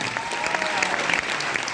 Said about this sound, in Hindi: महिपाल सर के लिए भी जोरदार तालियां बनकर